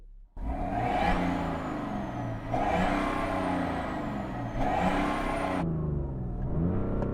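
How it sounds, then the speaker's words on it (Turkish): A modified BMW diesel car engine revs up three times in a row, each rise holding a rough, growling roar before dropping back to idle, loud and close. "Bu yüzden dizelimi çalıştıracağım rev up my diesel."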